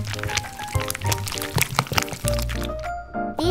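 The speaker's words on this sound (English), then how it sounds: "I pour melted chocolate into this buttercream bowl" Melted chocolate pours into a bowl of buttercream for a miniature cake, giving soft wet glugs and small splats with light clinks of the utensil, close and fairly quiet.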